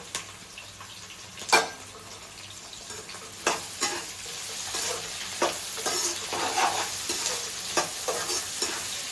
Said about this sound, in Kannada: ದಪ್ಪ ಮೆಣಸಿನ್ಕಾಯಿ ಹಾಕ್ತಿದ್ದೀನಿ.